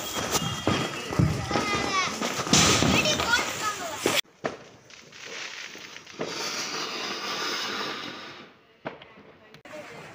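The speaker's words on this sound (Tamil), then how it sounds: "நைட்டு செலப்ரேஷனுக்கு நைட்டு போட வேண்டிய வெடியெல்லாம் எடுத்து வச்சுருக்கோம்." Diwali night firecrackers set off at home: sharp pops and crackling bursts under excited voices, then a long hissing, fizzing spray of sparks.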